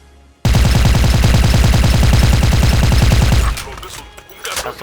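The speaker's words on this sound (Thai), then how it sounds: "กระสุนนี่เกาะเป็นกลุ่มเลยนะครับสำหรับ M4A1 นะครับ" Rapid automatic fire from an M4A1 rifle in Special Force 2 rattles out in a loud, close, sustained burst of about three seconds, then cuts off into quieter trailing noise.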